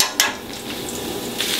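Minced garlic sizzles in olive oil in a hot pan, a steady bright hiss with a couple of faint clicks of a utensil or pan, fairly close and with no voices.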